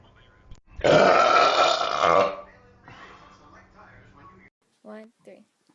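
One loud, gravelly burp bursts out close up for over a second, followed by quieter murmuring and a short vocal sound near the end.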